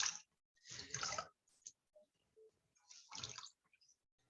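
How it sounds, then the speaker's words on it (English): Water is squeezed out of a wet hand-knitted garment, pressed rather than twisted, giving two bursts of wet squishing and splashing with quiet drips between, close and soft. "I'm going to wring it out in the water and try to get out all the water that I can"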